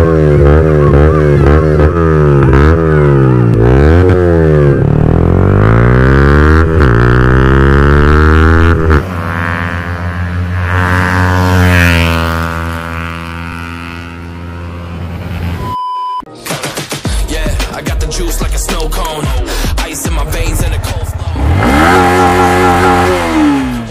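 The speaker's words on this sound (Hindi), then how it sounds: "स्टार्ट कर रहा है बाइक को" A Yamaha MT-15 motorcycle fitted with an Akrapovic full-system exhaust revs repeatedly, its loud engine note climbing and falling in sharp sweeps, then a brief cutout before more rapid, crackling blips.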